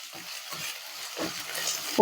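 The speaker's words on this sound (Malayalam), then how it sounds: "എന്നിട്ട് നന്നായി ഒന്ന് ഇളക്കി കൊടുത്തുകൊണ്ടിരിക്കാം." A spoon stirs sliced onions frying with green chillies in a pan, soft scraping strokes in a loose rhythm over a faint, steady sizzle, close and quiet.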